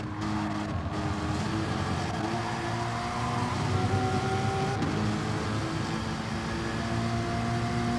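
Racing cars in a sim racing game at the Red Bull Ring drone steadily, with several engine notes layered together and shifting in pitch as the cars run side by side, loud and continuous.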